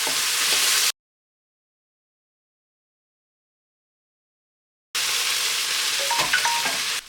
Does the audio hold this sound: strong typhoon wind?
no